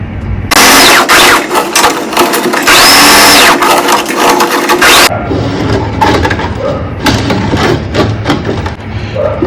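A sewing machine stitches a folded lehenga hem in loud, dense bursts of rapid mechanical rattling, with a brief pause near the middle before slower, choppier stitching resumes.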